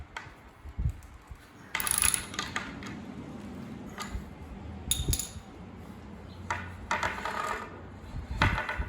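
A socket wrench ratchets in short, quiet bursts while tightening a washered bolt on a workbench, with several clicking runs separated by pauses.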